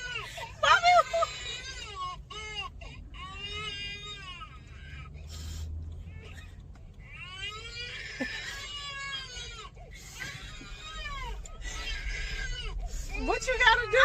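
A baby screams and wails in repeated strained bursts, close by, while adults talk over and between the cries.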